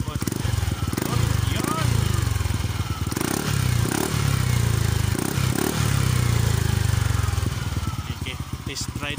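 Yamaha Aerox 155 scooter fitted with an Exos X-6 exhaust pipe, revved repeatedly in bursts with a loud, raspy, popping exhaust note close by, dropping to idle between revs while someone talks over it.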